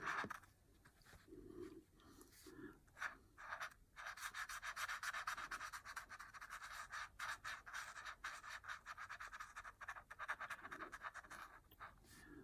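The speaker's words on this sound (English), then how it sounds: "little sound of the pen scraping just makes me alert to what I'm doing" A pen scratching across paper while colouring in, a steady close scraping and rubbing with short pauses between strokes, faint and intimate throughout.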